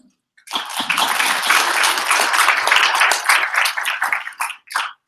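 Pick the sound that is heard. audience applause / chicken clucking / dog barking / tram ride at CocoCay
audience applause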